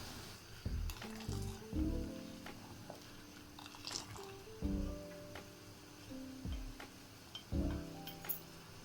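Sugar syrup for gulab jamun simmers in a pan, a faint, close bubbling and light sizzle broken by soft clicks and brief bursts, with no talking.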